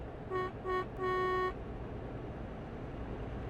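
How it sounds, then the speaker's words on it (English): A truck horn in Euro Truck Simulator honks three times, two short toots then a longer blast, over a low engine rumble. "Hear me honk my horn."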